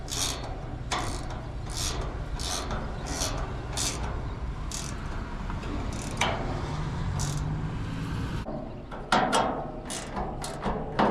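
A ratcheting wrench with a ratcheting direction dial clicks in repeated short bursts during a pop-up tent repair, its dry metallic ticks close and steady over a rough rubbing background.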